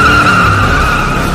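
A car peels out, its tires squealing loudly in one sustained skid at close range, with no talking.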